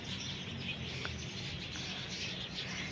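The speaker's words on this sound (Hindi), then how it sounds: "आपको चिड़ियों की भी आवाज आ रही होगी" Faint birds chirp now and then in the distance over a steady, broad outdoor evening hum, with no voices.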